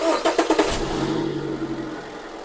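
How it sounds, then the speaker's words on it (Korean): An American car engine cranks in a quick run of rhythmic pulses, catches and settles into a steady low idle, heard close and fairly loud. "시동 걸고"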